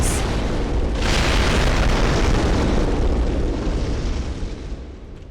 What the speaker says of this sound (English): massively loud explosion sounds